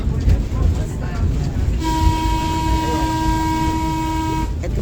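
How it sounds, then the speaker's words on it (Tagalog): A Southern train passes near the Serpentine River through farmland. A sustained, loud horn blast lasting about three seconds rides over heavy rail rumble, close by. "Ito po yung Southern Train."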